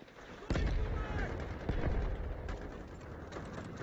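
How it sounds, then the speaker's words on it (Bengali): Sniper gunfire in the Delta Force video game, a sudden loud blast followed by a sustained rumbling roar of battle with scattered sharper cracks. "চলো স্নাইপার মারছে।"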